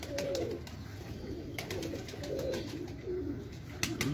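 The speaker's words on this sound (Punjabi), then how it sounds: "ਵੱਡਾ ਕਬੂਤਰ ਹੈ ਪੱਠਾ" A large pigeon coos in low, throaty repeated phrases close by, the soft bursts recurring over a steady background with occasional clicks and faint talk.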